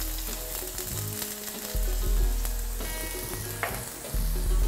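Ginger and garlic frying in hot oil in a wok, a steady loud sizzle with stirring scrapes and sudden louder crackles as ingredients hit the pan, no talking.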